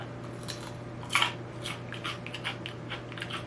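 A few soft, crisp crunches from biting into plant-based beer-battered onion rings, close up and quiet against a faint steady hum.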